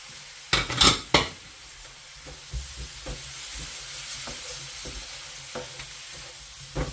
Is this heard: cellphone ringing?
no